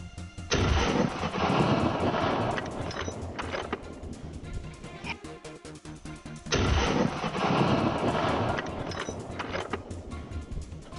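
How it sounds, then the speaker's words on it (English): A rapid series of gunshots rings out during a feral boar hunt in a snowy Texas field. Dense, loud, echoing blasts come in two heavy bursts separated by a short lull. "A rapid series of shots ring out."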